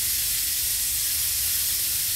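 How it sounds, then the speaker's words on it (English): WD-40 sprayed onto a weapon in the video game Z.O.N.A Project X, a loud continuous aerosol hiss held steadily without a break over a low rumble. "So just spraying it with WD-40."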